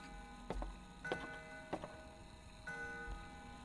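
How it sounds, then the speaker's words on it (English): An antique grandfather clock ticks in a horror visual novel, Spirit Hunter: Death Mark: a handful of separate, moderately clear ticks spaced roughly half a second to a second apart over a low, steady ambient hum. "It's an antique grandfather clock."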